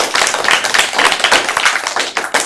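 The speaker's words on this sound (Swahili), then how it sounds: "Tumpige makofi." An audience claps together in a classroom gathering, a dense burst of rapid hand claps close by for a couple of seconds.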